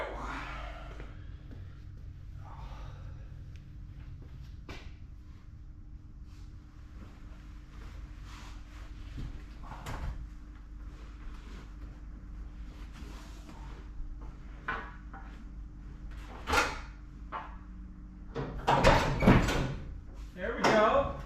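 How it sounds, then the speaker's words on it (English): On a 1969 Pontiac Catalina station wagon, the tailgate is worked from inside: soft knocks and rattles lead to a cluster of sharp metallic clunks and a pop near the end, with someone talking quietly throughout. "try to pop the gate this way, I think, to at least have a chance to get this open"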